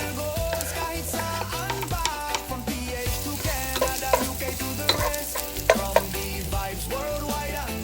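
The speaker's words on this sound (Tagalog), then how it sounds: "Tayo na magigisa na." Ingredients for pork menudo sauté in a pan with a continuous sizzle and frying crackle. Stirring scrapes and clinks come through irregularly. The cooking is close and moderately loud, and music plays underneath.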